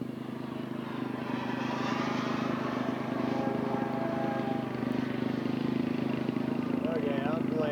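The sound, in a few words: scale model aircraft landing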